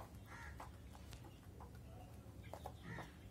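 A pair of Mianwali Aseel chickens, rooster and hen, clucking softly a few times over a steady background hum, with brief calls near the start and again toward the end.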